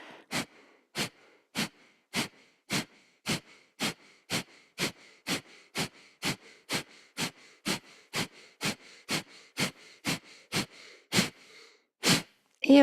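Fast rhythmic breathing in a yoga exercise: about twenty sharp, forceful exhalations through the nose, evenly spaced at roughly two per second, close and clear with near silence between them.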